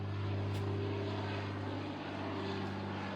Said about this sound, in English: here's a plane right here coming in.